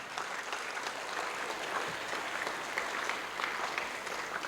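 A hall audience gives sustained, dense applause at a dance event felicitating its chief guest, a guru; steady crowd clapping throughout, fairly distant and soft, with no talk.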